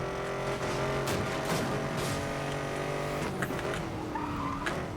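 Car engine in Need for Speed: Most Wanted (2012), steady game motor drone with shifting revs and a few brief skid-like bursts, loud and continuous with no talking.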